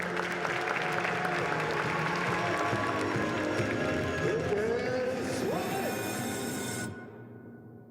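Audience applause at a fashion show, a steady wash of clapping from a crowd that carries on for several seconds, with a ringing tone and a voice heard over it, before dropping away sharply near the end.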